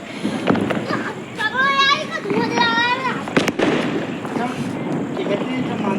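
Children set off firecrackers at home: sharp close pops and bangs, plus whistling rising and falling tones from fireworks, with people talking throughout.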